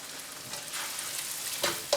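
An egg frying in a pan for Pad Thai gives a steady, fairly soft sizzle with faint crackles and a few small pops near the end, with no voices.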